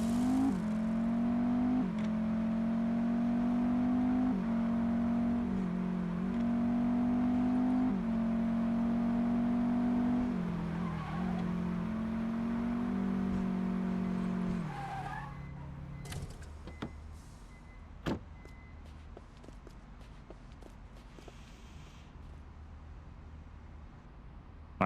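A car driving in a video game, its engine droning steadily and shifting pitch in stepped gear changes, then dropping to a quieter idle with a few sharp clicks and knocks toward the end.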